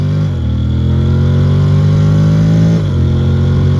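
A Honda Forza 750 DCT scooter engine at full throttle: a loud, close, steady drone that rises in pitch, dips briefly as the transmission shifts, then climbs again.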